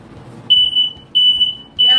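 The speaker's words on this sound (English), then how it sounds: "Her fire alarm went off." A smoke alarm goes off after meatloaf burns in a kitchen, sounding three loud, piercing high beeps in a steady repeating rhythm over faint background noise.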